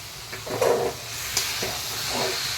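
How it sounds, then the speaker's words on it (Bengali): Green jackfruit pieces fry in hot oil in a pan, a soft hiss and sizzle with a few brief stirring scrapes, fairly close and with no one talking. "ইঁচড়গুলো ঢেলে দিলাম দিয়ে এবার ভালো করে ভাজবো"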